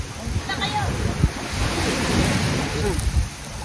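Seaside surf and gusty wind at a beach during a grilled-fish feast, waves washing steadily with wind rumble buffeting the microphone and faint voices mixed in.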